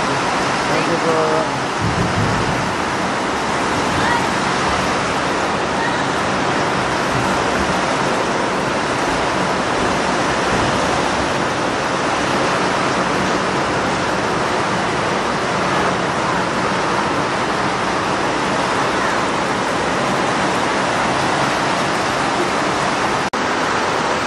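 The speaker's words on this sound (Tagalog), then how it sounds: "Nabuta na tayo ng ulan dito, napakalakas, bagyo." Heavy typhoon rain beats down during a motorcycle ride in a constant, loud roar of broadband noise, with wind and road noise mixed in for the whole stretch.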